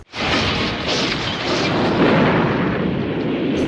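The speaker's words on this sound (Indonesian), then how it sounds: "membuat truk tersebut oleng dan meledak" A truck explodes in a sustained, roaring blast of noise that rumbles continuously like a large explosion and burning aftermath, loud and close, with no voices.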